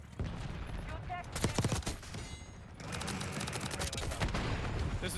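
Gunfire in the first-person shooter Call of Duty Black Ops 6, with bursts of rapid automatic shots and a sharp volley standing out over a busy, continuous game mix.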